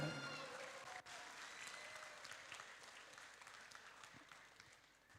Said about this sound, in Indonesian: Marilah kita beri tepuk tangan yang paling meriah untuk Kak Vivi Fortuna